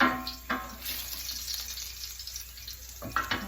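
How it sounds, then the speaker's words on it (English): Garlic frying in a pan on a stovetop, a faint steady sizzle with a couple of louder bursts of crackle near the start and end, no talking. "I'm going to soffrire the garlic"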